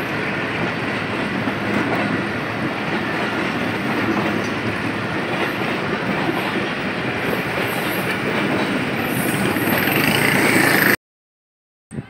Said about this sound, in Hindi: इस वक्त मिल्लत एक्सप्रेस लाहौर के लिए रवाना हो रही है कराची से।